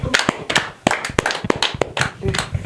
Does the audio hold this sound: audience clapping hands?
yes